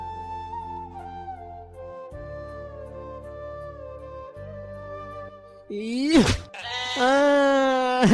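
A loud sheep bleats near the end, after a stretch of sustained musical tones, with a wavering cry that rises and holds.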